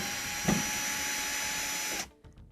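A power screwdriver whirs steadily for about two seconds while backing Phillips head screws out of a Whirlpool dryer panel, close and fairly loud, with a small knock near the start before it cuts off into quiet handling.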